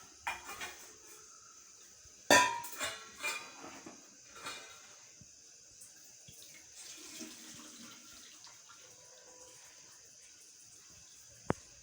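Water and cooked pasta pour and splash into a metal strainer in the sink, with clattering knocks of a pot against it and running water trailing off.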